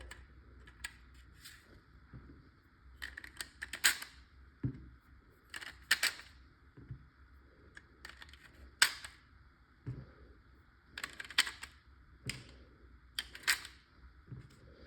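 BK Kinetics airsoft rounds are pushed one by one into a Zeta/TIPX magazine for a Valken M17, giving sharp, close plastic clicks and taps in irregular bursts, with no talking.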